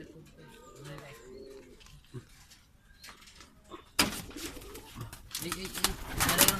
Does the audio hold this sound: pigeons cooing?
yes